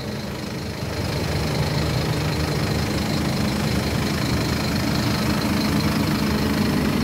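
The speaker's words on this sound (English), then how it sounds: "Scania engine that's been retrofitted, upgraded to Euro 6" A 2009 Scania N230 OmniCity double-decker bus with a Euro 6-upgraded engine idles steadily close by, a continuous low diesel rumble with no talking.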